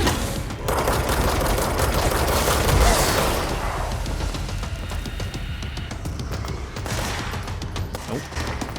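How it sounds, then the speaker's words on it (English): Continuous, loud gunfire from the video game Control, with dense rapid shots merging into a sustained roar of automatic fire and a heavier boom near the start. "They're still shooting, so something else is still around."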